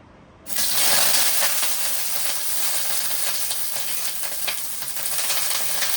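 Onions dropped into hot oil for a simple prawn dish, a sudden loud sizzle that starts sharply and continues as a steady, bright crackling hiss, with no speech.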